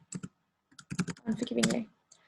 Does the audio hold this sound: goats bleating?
no